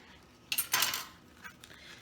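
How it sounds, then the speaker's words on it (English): A knife slices down the middle of a shrimp salad sandwich on a plate, with a brief metallic clink and scrape against the dish, close and quiet, then a faint tap. "I'm gonna go ahead and cut it down the middle."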